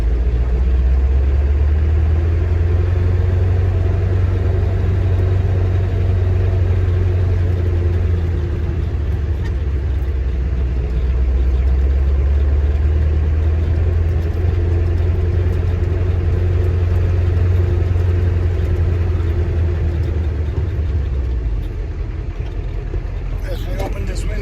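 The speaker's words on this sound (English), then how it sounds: "You can get a little bit of exhaust sound." The 7.3 Powerstroke diesel engine of a 1996 Ford F350 dually pickup idles steadily nearby with a low, even rumble, and someone speaks briefly over it before the engine cuts off near the end.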